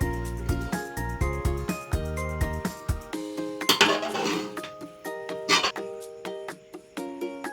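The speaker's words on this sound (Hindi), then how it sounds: "चलिए जी हम चावलों को डिश आउट कर लेते हैं।" Dishes and serving spoons clink in light, scattered taps as chicken pulao rice is dished out, heard beneath steady background music.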